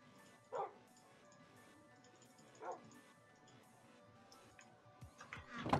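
A dog in the Minecraft video game barks in short yips, one near the start and another around the middle, with a sharper burst of game sounds at the end over a quiet background.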